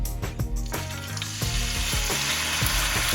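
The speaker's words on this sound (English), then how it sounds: "Always want to hear that sear. If you don't hear that sizzle, then don't put the beef inside." Beef steak sizzles loudly in a hot pot, a constant crackling hiss with a few sharp clinks and scrapes mixed in.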